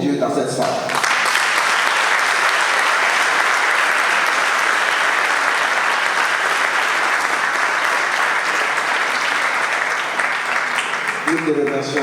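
Wedding guests in a hall break into loud, sustained applause that holds steady for about eleven seconds, with a voice speaking briefly at the start and the end.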